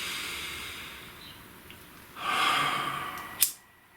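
One deep breath taken in and let out, a soft airy inhale swelling into a breathy exhale that ends in a short sharp puff, close and fairly quiet.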